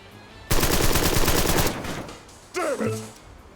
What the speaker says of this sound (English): By the way, he has the same type of machine gun.